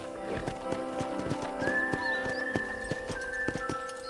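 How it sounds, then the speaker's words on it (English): Horse hooves clop in a quick, steady galloping rhythm in Red Dead Redemption, with a horse whinnying briefly midway, all at moderate level. "let's see if you can still ride a horse"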